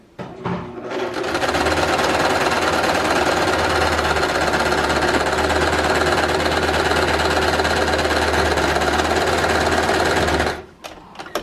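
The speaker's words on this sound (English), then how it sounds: "I'm going to sew halfway and then cut it and flip it over and sew the other half." A sewing machine stitches along the edge of a fabric face mask in one loud, close, continuous rapid run lasting about nine seconds, starting and stopping abruptly, with no talk.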